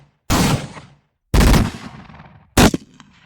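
Three heavy, booming shots from tank guns in battle, each a sharp blast trailing into a decaying rumble, spaced about a second apart and fired alone.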